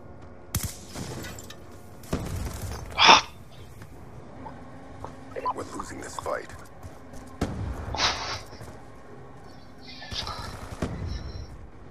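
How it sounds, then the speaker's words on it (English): Gunfire in the video game Black Ops 2: several sharp bursts of shots spaced through the span, some near and loud, others further off, with a player talking between them. "I had gunfire behind me."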